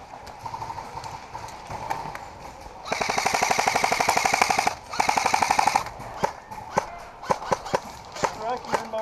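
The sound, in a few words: paintball guns firing during a paintball game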